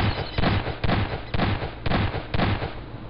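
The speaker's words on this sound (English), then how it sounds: "Now if I click this, it is firing." A Wiremod turret in Garry's Mod fires in a rapid series of sharp, loud gunshot bursts, about six evenly spaced blasts within a few seconds.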